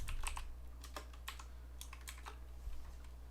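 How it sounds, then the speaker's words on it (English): Typing on a computer keyboard while building a web front end, with quick clusters of light key clicks close to the microphone over a steady low hum. "All right, so we need to type,"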